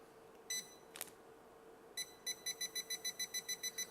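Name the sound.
beeps of Scubatector underwater metal detector setting power level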